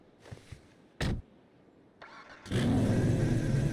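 In GTA 5, a car door thunks, a starter cranks briefly, then an engine catches and settles into a loud, steady running roar.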